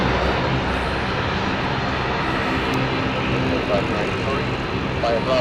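An aircraft taxiing at London City Airport gives a steady, broadband engine roar and whine, close and constant across the whole stretch, with faint talk mixed beneath.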